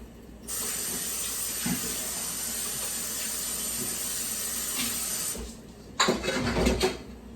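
Cut string beans and baby carrots boil together in a pot with a steady, close hiss of bubbling water that runs for several seconds, then cuts off and is followed by a brief clatter.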